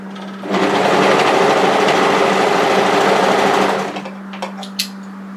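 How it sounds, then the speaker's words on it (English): An overlocker sewing machine runs at a steady, loud whir while stitching the ends of fabric for a one-shoulder top, then stops and leaves a few faint clicks and handling sounds. "The one I like to do is just to secure each end with overlocking individually."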